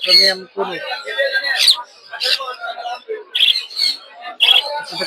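Yellow ringneck parakeets call at the busy Mirpur 1 bird market, sharp squawks and chirps repeating in bursts close by, mixed with people talking.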